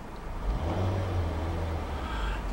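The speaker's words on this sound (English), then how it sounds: "I'm going to rev the engine." A 2013 Nissan Altima SV with about 17,700 miles is idling and then revved, giving a steady low engine rumble that swells slightly and holds. It is close and moderately loud, with no talking.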